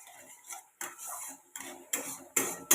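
Ground chili, cumin and coriander being stirred into onion paste water with a spoon, a series of soft clinks and scrapes against a bowl in about six short strokes, close and quiet.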